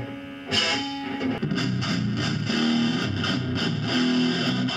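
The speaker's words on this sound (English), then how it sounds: "Here's the death metal distortion settings." Heavily distorted electric guitar with death metal distortion settings plays chugging, palm-muted riffs with a thick, aggressive tone and rhythmic accents, loud and up front.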